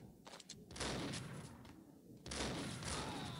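Gunshots in Max Payne come as two dense, loud bursts of rapid fire, the first from just under a second and the second after two seconds, each thick with overlapping reports and echo.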